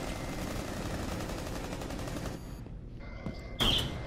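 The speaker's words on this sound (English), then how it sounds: "Who's shooting?" Rapid automatic gunfire in Rainbow Six Siege rattles loudly and continuously for over two seconds, then cuts out, leaving a brief lull before a sharp burst of shots near the end.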